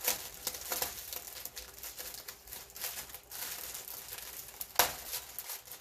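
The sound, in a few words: paper napkin crinkling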